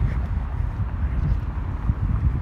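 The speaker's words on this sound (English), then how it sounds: "Sorry about the wind." Outdoor wind buffets the microphone at an abandoned gym, a continuous deep rumbling roar that fills the whole clip at close range, with no voices.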